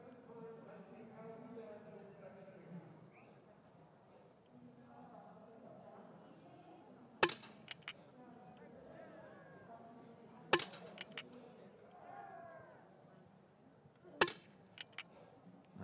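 Rifle shots at a Beijing 2022 para biathlon 10 km standing shooting range, three sharp cracks spaced a few seconds apart, some in quick pairs, heard over steady commentary.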